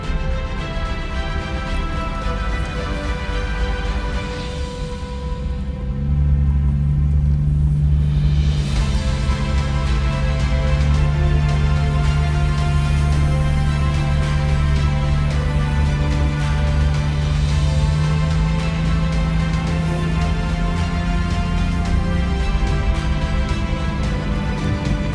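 A Jeep JL Wrangler rolls back down an off-road trail, heard as a steady, loud low engine and road drone from inside the cabin, continuous and unbroken, with no talking.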